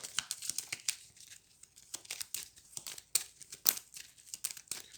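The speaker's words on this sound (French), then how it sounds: "Je pioche 5 cartes." Five cards drawn from a deck in a Hero Realms tabletop card game, heard as a close run of quick, crisp paper flicks and slides with small crinkly snaps, faint and without talking.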